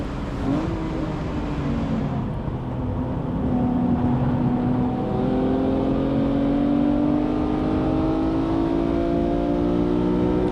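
A BMW M3 E46 engine revs hard on a race track, a loud, close, steady drone whose pitch climbs as the car accelerates through a lap, with no voices.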